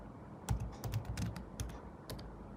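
Close, quiet keystrokes on a computer keyboard come as a short burst of typing with irregular clicks while a terminal command is entered.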